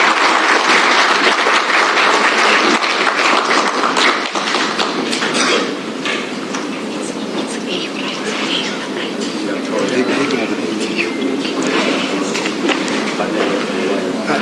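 A crowd at a public event on Kenya's 2022 general elections applauds after a speech, with a continuous, dense wash of clapping that stays loud and even throughout, without fading.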